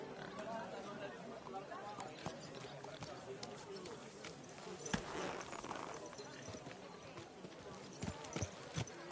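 Horse hooves clip-clopping in the medieval video game Kingdom Come: Deliverance, a rhythmic clatter running under game ambience with a few louder hoof strikes near the end, and voices talking throughout.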